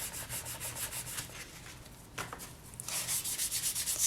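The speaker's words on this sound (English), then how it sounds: "So you want to really give it a good sand." Rhythmic back-and-forth sanding of a cured polymer clay bead bezel, close and fairly loud rasping strokes that pause briefly midway before resuming at a quicker, steady pace.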